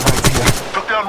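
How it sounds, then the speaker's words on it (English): Gunfire in the mobile shooter Apex Legends Mobile: three sharp, loud shots in quick rhythm, followed by quieter trailing game sounds and a faint electronic whine, no voices over it. "shooting at me! I'm taking fire!"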